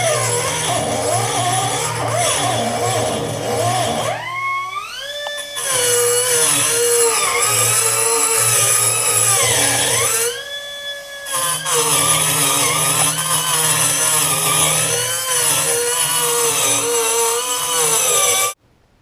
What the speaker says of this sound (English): taking out some of this weld. We are going to go through them with a sanding roll, just clean up the edges